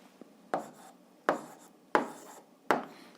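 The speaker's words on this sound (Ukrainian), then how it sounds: "Ну що ж, записуємо відповідь, пишемо відповідь." Pen or pencil writing out the answer to an algebra exercise, four distinct scratchy strokes at a steady rhythm, close and fairly soft, with quiet pauses between them and no talking.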